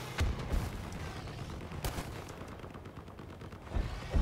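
Automatic weapon fire from armed vehicles in the combat game Crossout, with several loud bursts and booms spread across the moment and quieter mechanical rumble between them, no talk.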